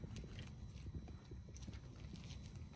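Saudi Arabian racehorses being trained give off soft, repeated hoof clip-clops heard faintly at a distance over a low rumbling background, in an irregular walking rhythm.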